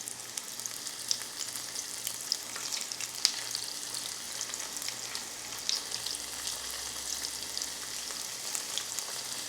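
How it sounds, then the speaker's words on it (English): Beef for Mongolian beef frying in a batch of hot oil, a dense crackling sizzle holding steady for several seconds, close and even, with occasional spits and pops and no voices. "We're going to fry our beef in a couple of batches."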